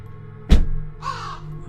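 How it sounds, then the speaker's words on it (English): Crows caw overhead, one harsh loud caw followed by a second, fainter and drawn-out call about half a second later, with quiet background between them. "The only sign of life was the eerie cawing of crows from above"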